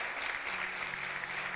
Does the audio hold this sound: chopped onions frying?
no